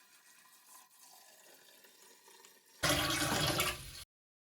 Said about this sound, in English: pour that bucket of water inside the tank all the way up and just shy of that line